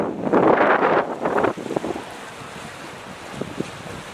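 Strong wind buffets the microphone at the Matsue waterfront, with heavy gusts in the first moments that ease into a steadier rushing blow and occasional lighter thumps.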